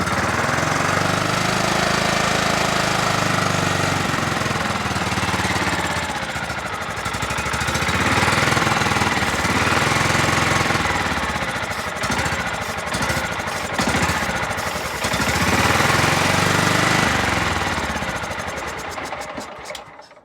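A John Deere LT133 lawn tractor engine runs on choke in a long, loud, rough and lumpy idle with uneven surging and a rattling knock, close up, then cuts out at the end; nobody speaks.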